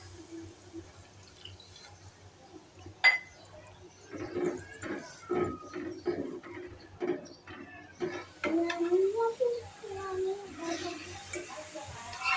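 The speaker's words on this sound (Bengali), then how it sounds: "মশলা কষানো শেষে পানি দিয়ে দিলাম" Water poured into fried spice paste in a pan for mustard pabda fish curry, giving a splashing, bubbling pour over a low background, with a voice talking faintly over parts of it.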